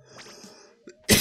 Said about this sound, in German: Entschuldigen Sie den Huster